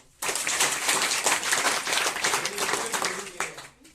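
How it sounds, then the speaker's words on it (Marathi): An audience at a motivational lecture for rural students breaks into steady applause, many hands clapping together for a few seconds before it quickly dies away. "टाळ्या वाजवा पहिलं"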